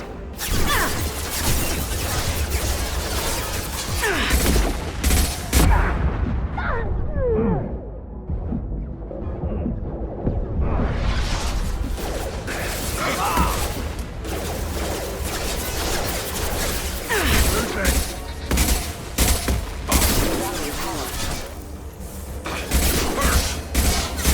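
Gunfire and explosive combat in Mass Effect 2 Legendary Edition: a dense, continuous barrage of shots and crashing impacts, briefly dropping to a quieter lull before the loud firing resumes.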